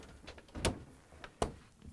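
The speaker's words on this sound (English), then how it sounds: "I'm going to close the doors" Cabinet doors swung shut by hand, giving two sharp knocks about three-quarters of a second apart with faint rattles around them, close by and with no voices.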